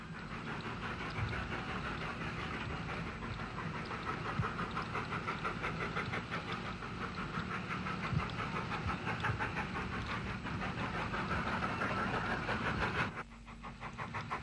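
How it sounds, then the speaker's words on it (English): S-Class steam locomotive working the line between Newton Stewart and Victoria Bridge in Ulster: steady rhythmic chuffing with rail clatter, fairly close and sustained, cutting off abruptly near the end. "An S-Class was recorded here on the picturesque stretch between Newton Stewart and Victoria Bridge."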